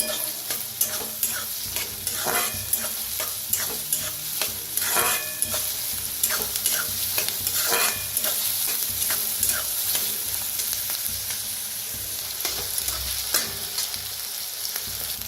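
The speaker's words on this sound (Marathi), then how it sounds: "थोडंसं हिंग, कांदा बारीक कापून घेतलेला। कांदा आता छान असा भाजून घेऊया।" Finely chopped onion with a pinch of asafoetida fries in a pan with a steady sizzle, while a spoon stirs and scrapes in irregular strokes close up.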